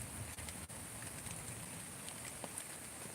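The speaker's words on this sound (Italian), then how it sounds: "è arrivata la pioggia finalmente, quindi come potete vedere sta piovendo" Rain falls at night in Salerno as a steady, broad hiss with scattered faint drips and patters, even and continuous, more moderate than a downpour, with no voices.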